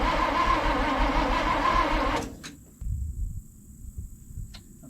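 The starter cranks the engine of an abandoned International cab-over truck that has sat in a field for years, a rhythmic churning for about two seconds that stops without the engine catching, followed by quieter rustling.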